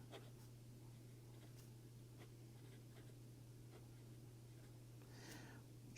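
A V'sign Forte fountain pen loaded with Pelikan Royal Blue ink writes on Rhodia paper, making faint, close, soft scratching strokes in short irregular bursts over a steady low electrical hum.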